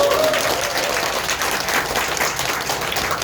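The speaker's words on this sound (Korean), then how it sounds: "박수 한번 부탁드립니다." Applause fills a group meeting as a guest who came from Saipan is welcomed, a dense, steady patter of many hands clapping at close range throughout.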